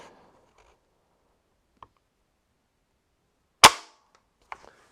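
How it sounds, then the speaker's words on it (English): A single sharp report from a Umarex Synergis .177 fixed-barrel multi-shot under-lever air rifle firing, loud and close in an otherwise quiet setting, followed by a faint small impact and a click. "we're now chambered and ready to fire"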